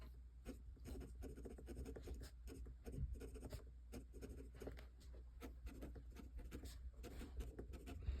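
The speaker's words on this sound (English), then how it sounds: "It does have some scratchy feedback, which I actually really like." A vintage Centropen 5270 fountain pen with a 14k flex nib scratches across paper in quick, close strokes with a dry rasping texture, steady and alone over a low background hum.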